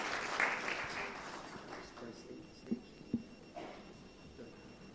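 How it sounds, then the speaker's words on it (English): Audience applause follows a lecture at a medical conference: a burst of clapping that thins out, with a few sharp claps and faint voices near the end. "I think we should clap once again."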